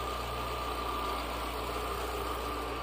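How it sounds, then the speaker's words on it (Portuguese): A Renault Logan engine idles steadily after a fuel pump repair, with a sports exhaust fitted. The rumble is close, even and unbroken, and no one speaks over it. "Motorzinho paradinho, ó."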